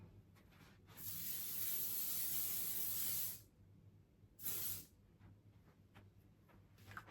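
Makeup setting spray hisses out in one long burst of about two and a half seconds, then a shorter second burst, close and alone in a quiet room.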